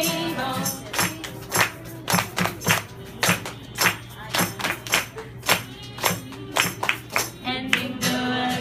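Children clap in quick rhythmic bursts along to the Bingo song, sharp, close claps in repeated groups that punctuate the singing and voices.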